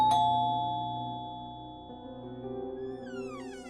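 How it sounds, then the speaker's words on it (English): A doorbell rings once at an apartment door, a bright two-tone chime decaying slowly and heard alone, followed by a faint higher warbling tone. "she runs as fast as she can and rings the doorbell of someone's"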